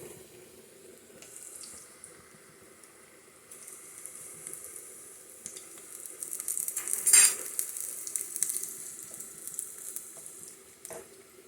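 Soft, steady sizzling of plantains frying in a pan, with a brief louder hiss midway and faint clinks.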